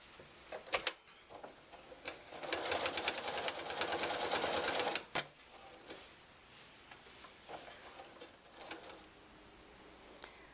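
A sewing machine stitches a Jelly Roll Race quilt placemat in a short, fast, steady burst of rattling stitches. Scattered clicks and handling taps come before and after the burst.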